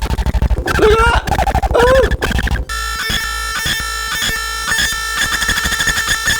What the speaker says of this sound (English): The algorithm's actually set to the LFO on noise, so it's actually jumping through the algorithms.